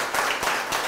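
A studio audience claps for a contestant on a quiz game show, a short burst of dense applause with a few pulses of stronger clapping.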